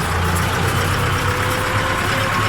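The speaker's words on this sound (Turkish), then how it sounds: "Bu traktör 69 model arkadaşlar" A 1969 tractor engine idles steadily at close range, a continuous low rumble with a constant hum running throughout and no talk over it.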